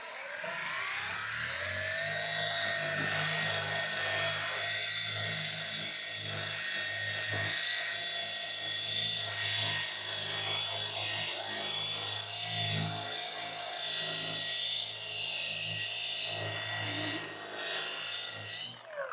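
A machine polisher buffs car paint at around 3,000 RPM, giving a steady, sustained whine with a faint shifting drone underneath, close and continuous throughout.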